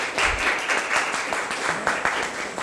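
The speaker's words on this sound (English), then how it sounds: "a round of applause for our panelists" An audience applauds panelists at the end of a session on gender inclusion and economic participation, dense continuous clapping with uneven bursts throughout, fairly close and loud.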